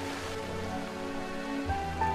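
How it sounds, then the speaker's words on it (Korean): Heavy monsoon-season rain pours down in a steady, dense wash with no break, lasting the whole stretch, with a low continuous tonal drone running beneath it. "수시로 굵은 비가 내리는 장마철"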